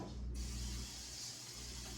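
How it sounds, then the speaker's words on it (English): A pump-action kitchen oil spritzer releases a brief fine hiss of spray close up, followed by a steady low mechanical hum and soft background noise without speech. "You just pump it a couple of times. Mine's already built up the pressure, and you're just going to"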